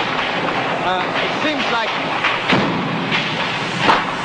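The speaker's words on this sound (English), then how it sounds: "This gunfire that you can hear is pretty close." Close gunfire during a night firefight in Vietnam in 1968 cracks and thumps in scattered bursts, with a sharp report midway and another near the end, heard under a voice and background chatter.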